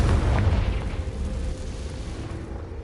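A Confringo blasting spell goes off in a video game, a loud low boom with a rumbling burst that rolls on and slowly fades over a few seconds.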